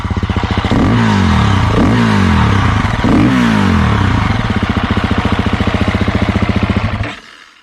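An enduro motorcycle engine runs loud and close, throbbing steadily with a few quick revs early on, then shuts off abruptly near the end.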